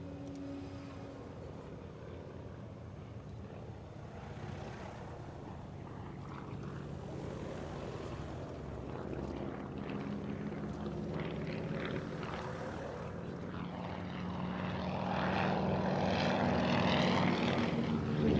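An Avro Anson propeller aircraft flying at the Cosford airshow, a continuous droning engine and airscrew hum with shifting tone, fairly distant and steady, swelling louder toward the end.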